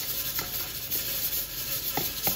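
Chicken pieces, including breast, frying in hot oil in a home kitchen, giving a steady close sizzle with a few soft stirring scrapes and light clinks, no voices.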